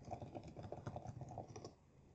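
Quick keystrokes on a computer keyboard as a short command is typed, a close, steady patter of clicks for about two seconds that stops abruptly.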